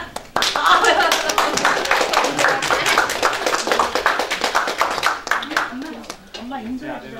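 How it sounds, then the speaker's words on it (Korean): Loud, dense applause from a church lecture audience, sustained for several seconds before tapering off, with a voice beginning to speak near the end. "뜨거운 박수로 맞아주시기 바라겠습니다"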